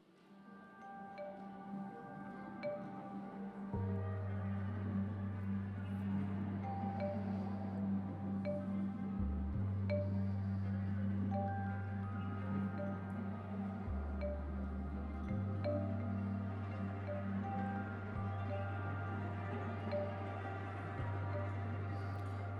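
A synthetic soundscape imagines an Arabidopsis plant for an art installation: deep, sustained electronic tones step between pitches in long blocks beneath faint scattered higher chimes, quiet and continuous.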